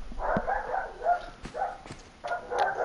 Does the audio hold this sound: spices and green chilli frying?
no